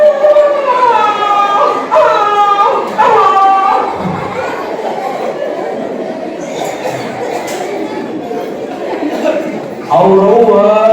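During a stage comedy act, a comedian's voice imitates dogs howling in a few short, rising and falling howls. These give way to a noisy stretch of crowd sound, and the howling returns briefly at the end.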